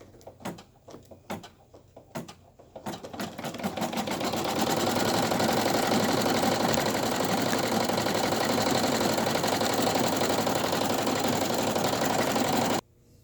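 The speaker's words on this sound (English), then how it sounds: "we're going to stitch the motif stitch. Just going to close up the whole ear" An embroidery machine stitches a motif stitch to close up a 3D foam ear, running loud and steady with a dense, continuous whir after a few scattered starting clicks, then stopping abruptly near the end.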